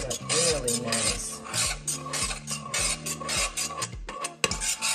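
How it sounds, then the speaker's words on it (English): A spoon rasping and scraping repeatedly through Spanish rice in a pot, steady rhythmic strokes close up and fairly loud, with a clack near the end. "Stir it up really nice."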